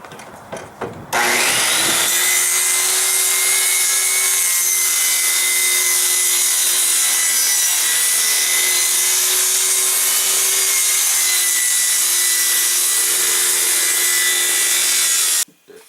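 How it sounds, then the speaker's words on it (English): A continuous saw cuts through a 30-inch by 30-inch wooden panel for about fourteen seconds, steady and close, ending abruptly. "Right now I'm gonna cut the 30-inch by 30-inch panels."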